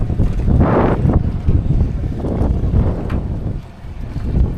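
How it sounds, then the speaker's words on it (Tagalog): Strong northeast monsoon wind buffets the microphone at sea off Dinahican, a loud, continuous rumbling roar with gusty surges, boat and water noise mixed underneath. "malakas ang hangin. Amihan."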